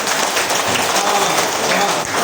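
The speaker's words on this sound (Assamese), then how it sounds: "খাদিজা খাতুনৰ কাৰণে এটা হাত চাপৰি দিয়া।" A classroom of children applauds a young girl student at a school teaching-aids exhibition, a short burst of dense, steady clapping that fills the room.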